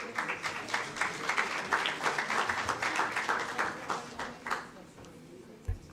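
An audience at a university accounting sciences symposium and book launch applauds a professor with steady, rhythmic clapping that fades toward the end. A brief low thump sounds near the close.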